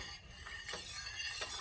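Metal spatula scraping and stirring coconut pie filling in a pan, a steady close scratchy rasp with a few brighter strokes repeating about every half-second, with no voices.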